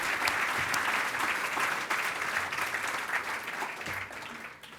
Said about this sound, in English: Let's give the Muller Company a round of applause.